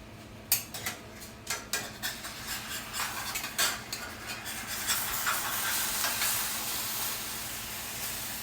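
Fried eggs being scraped and lifted from a hot frying pan: a series of distinct metal spatula scrapes and taps at first, then a building, continuous sizzle and hiss of frying, close and fairly soft.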